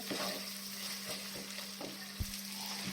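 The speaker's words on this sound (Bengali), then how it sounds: "বাদামটা খুব ভালোভাবে ভাজতে হবে, বাদাম বাটাটা আমি লো ফ্লেমে করে দিলাম" Ground peanut paste frying slowly in oil over a low flame gives a quiet, steady sizzle, broken by a few soft scrapes and taps as it is stirred in the pan.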